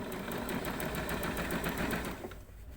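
Sewing machine running steadily while understitching a V-neck seam, a fast even needle rhythm close by that carries on without a break and then stops near the end.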